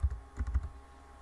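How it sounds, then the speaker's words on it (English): Quick, soft keystrokes on a computer keyboard, a short burst of four or five close taps, faint and alone. "we can just type in trees here"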